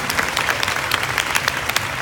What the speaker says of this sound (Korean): 박수 한번 쳐주셔야 되겠어요?